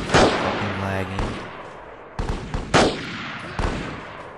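An M4 rifle fired on semi-auto in Delta Force: Land Warrior, sharp separate shots at irregular intervals, several loud cracks with short decaying tails and a brief tonal sound between early shots.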